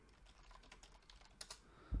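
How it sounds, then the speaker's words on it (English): Quick bursts of typing on a computer keyboard, close and moderately loud, with irregular clusters of keystrokes and no voice over them. "I'm going to type that in."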